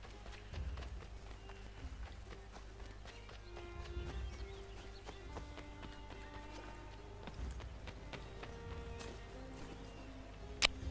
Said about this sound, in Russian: Так, а лошадь есть тут? Ага. Есть лошадь,